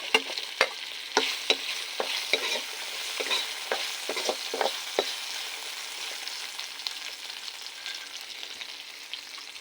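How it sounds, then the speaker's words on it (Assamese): Sliced elephant apple (outenga) fries in hot oil in a wok, sizzling steadily up close while a spatula scrapes and stirs in irregular clacks, with no voices. "এয়া মই ঔটেঙাখিনি কাটি লোৱা ঔটেঙাখিনি ইয়াত প্ৰথমে ভাজি ল'ম।"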